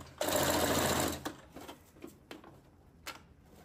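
A sewing machine stitches a wig cap in one loud, steady whirring burst of about a second, followed by faint clicks and handling noises.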